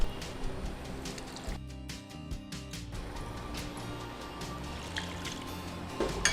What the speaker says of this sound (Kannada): ಸ್ವಲ್ಪ ನೀರು ಹಾಕಿ.